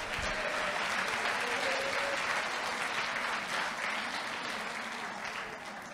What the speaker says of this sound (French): Applaudis encore notre Dieu.